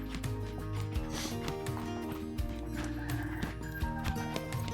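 A gaited horse trotting off, with rhythmic hoof clip-clops and a whinny, heard close against a busy, steady background.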